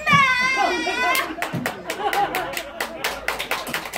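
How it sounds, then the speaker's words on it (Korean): Scattered clapping from a small group during a rehearsal, uneven bursts of hands mixed with talking voices and a voice, fairly close. "박수 한번 보내주세요"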